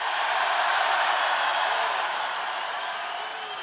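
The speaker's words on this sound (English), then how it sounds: "It's a phenomenal crowd," A large rally crowd in South Carolina, February 2020, cheers and applauds for Donald Trump as a steady, dense roar that eases off slightly toward the end.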